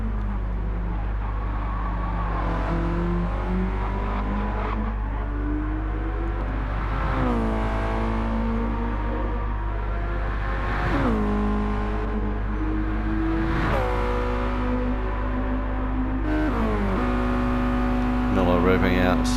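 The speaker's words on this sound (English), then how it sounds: "Revving out ever so slightly more." A Mazda Roadster race car engine in Gran Turismo 7 revs loudly through repeated rising pitch sweeps and upshifts during an endurance race, with commentary throughout.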